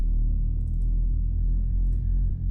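A Reese bass synth built from two saw waves, one raised a semitone, rumbles deep and loud with a beating, wobbling texture. Faint high ticks sit above it, and no one speaks.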